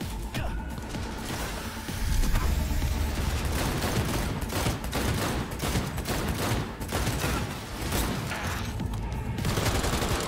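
Dense, rapid gunfire from a firefight in the video game Cyberpunk 2077: overlapping shots and bursts crackle almost without pause, loud and close, across the whole stretch.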